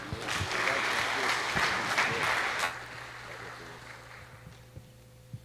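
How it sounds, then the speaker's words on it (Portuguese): A church congregation applauds a visiting pastor, the clapping full and steady for a few seconds before thinning out into sparse claps over a low hum. "Recebamos com uma linda salva de palmas"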